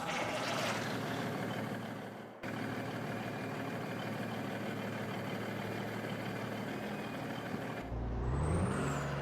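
A truck engine starts up in Farming Simulator 22 after a long stretch of steady idling machinery rumble, with a brief hiss and a rising engine whine near the end and no talking.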